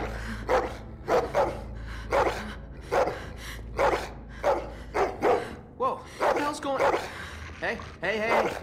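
Repeated dog barks from the Walking Dead video game, arriving in an uneven rhythm of short sharp bursts over a low background drone, with a few whimpering yips near the end.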